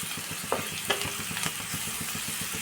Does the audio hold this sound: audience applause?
no